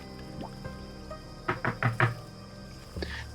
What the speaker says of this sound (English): I guess we knock on the door.